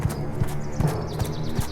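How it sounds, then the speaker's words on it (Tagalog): Hoofsteps of a large goat crossing a bridge, as a sound effect: five evenly spaced, close clip-clop knocks in a steady walking rhythm, with no speech. "maririnig ang mga yapak ng panganay na kapatid sa tulay"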